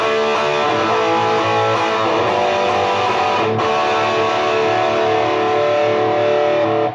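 A distorted electric guitar through a Klon Centaur clone overdrive pedal with light reverb rings out in a thick, sustained chord, loud and continuous, fading only at the very end.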